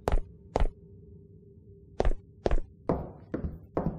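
Heavy door in a horror game banging and thudding, a handful of loud separate impacts with pauses, the later ones rougher and scraping, over a low steady hum.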